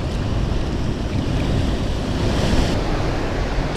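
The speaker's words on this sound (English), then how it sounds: "I still gotta be careful of these waves" Ocean waves surge against rocks at the foot of a seaside cliff, a continuous broadband wash of surf with wind buffeting the microphone, loud and close, with no voices.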